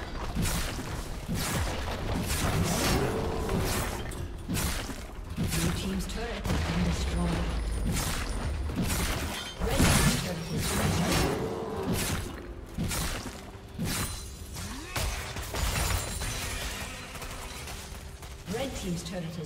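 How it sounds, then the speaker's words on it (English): Turret destruction in a League of Legends match between Darius and Dr. Mundo, heard as repeated blasts, shattering crashes and whooshes over constant game music and effects, with an announcer voice speaking throughout. "Blue team's turret has been destroyed."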